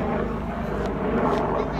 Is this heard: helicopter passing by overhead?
yes